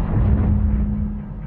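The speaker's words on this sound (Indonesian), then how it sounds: "kapal selam milik angkatan laut pun seketika meledak" A navy submarine explodes in the film The Meg as a deep, sustained low rumble with a steady hum, roaring evenly for over a second before cutting off with a sharp final burst.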